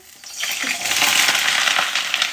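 A sudden hissing sizzle erupts as food hits a hot pan, then settles into a loud, steady crackling fry.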